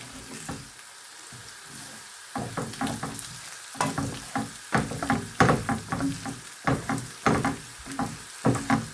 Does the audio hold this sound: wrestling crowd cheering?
no